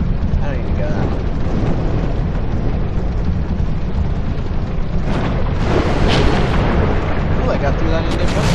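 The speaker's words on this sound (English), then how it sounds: "Explosion! And a poison. And explosion." Explosions in the video game Level: Max rumble as a dense, continuous roar of booming blasts, loud and close, with a voice talking over them.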